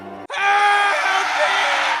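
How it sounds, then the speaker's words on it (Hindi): A loud, sustained scream bursts out after a brief low voice, ringing out high and strained for nearly two seconds in a horror story set on a haunted mountain. "चीख हवा में गूंजती है, दर्द और खौफ से भरी।"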